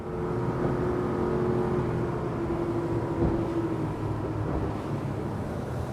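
Engines of a Chris Craft Corsair 34 motorboat running at about 5,000 rpm at top speed, a steady loud drone and whir with rushing water beneath, holding constant for several seconds.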